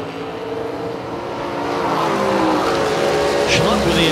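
A 1965 Chevy II and a 1934 Chevrolet Roadster launch off the line at a drag strip, their engines swelling into a loud, rising roar with a brief tire chirp. A voice can be heard talking over them.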